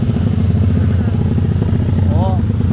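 A modified OHC 70mm motorcycle engine runs steadily and loudly up close, holding a dense, rough drone with no clear rise in pitch, in a street setting.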